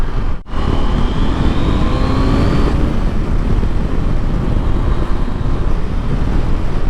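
Car passing loudly along a track in wet conditions, a roaring engine note that sweeps in pitch as it goes by, buried in heavy wind and rumble noise with no voices.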